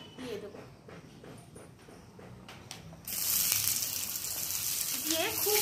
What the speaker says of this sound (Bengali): দিয়ে খুব ভালো করে ভেজে নেবো।